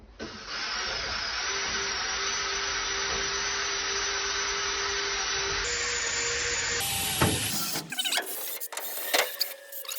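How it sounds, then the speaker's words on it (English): A power drill bores a hole in the corner of a campervan wall, running as a steady, loud whine for several seconds with slight pitch shifts, then breaking through into rough, uneven grinding and clatter near the end. "drill a hole in the corner"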